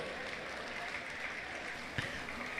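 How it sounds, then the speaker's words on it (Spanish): Crowd applauding at a basketball final in Santa María Tlahuitoltepec, steady dense clapping throughout with a faint thump near the middle. "Que vengan los aplausos, querido público."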